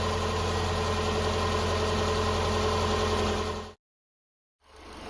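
A 2011 Subaru Impreza 2.5i engine idles steadily and close up during thermostat replacement work, a constant low hum that cuts out abruptly near the end before faintly returning.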